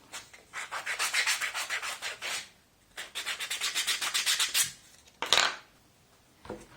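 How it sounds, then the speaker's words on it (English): Sandpaper rubs against leather edges in quick, rhythmic back-and-forth strokes, two close bursts of steady scratching separated by a brief pause, followed by one short final scrape. "You're gonna need some sandpaper to clean the edges."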